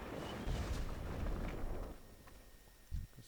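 A loud, broad explosion roars in World of Warcraft after a flying machine is touched, a rumbling blast lasting about two seconds before fading into quieter game sounds with a brief thump.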